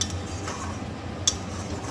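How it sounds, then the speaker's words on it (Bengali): A spoon stirs thick spice paste (masala) in a pan, thinned bit by bit with poppy-seed paste rinse water, for homemade butter paneer: steady soft scraping and sizzle with one sharp metallic clink near the end, close by, no talking. "মশলাটা কিন্তু বারবার নাড়াতে থাকছি"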